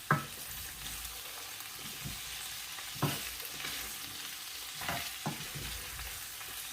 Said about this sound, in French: Je vais vraiment bien faire cuire la viande, bien faire frire.